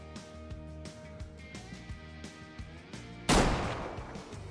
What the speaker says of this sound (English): He's finally going to give us an angle to where we can take this shot.